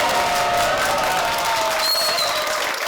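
Sustained applause from a live studio audience at a public broadcast recording of a Korean talk show, dense and steady throughout with a faint voice underneath.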